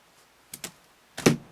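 Keys on a Sony VAIO Duo 11 laptop keyboard struck in a quiet room: two light close taps, then a louder, heavier clack a moment later, with no talking.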